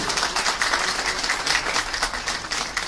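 Steady applause from an audience at a literary magazine's short-story award night, even and sustained throughout with no voices over it.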